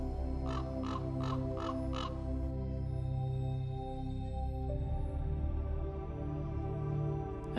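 Ravens gather in winter near a dead deer in the Białowieża forest, a quick run of five loud croaking calls standing out over a steady, dense low background rumble that lasts throughout.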